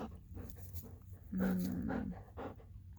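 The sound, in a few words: Bernese mountain dog panting and whimpering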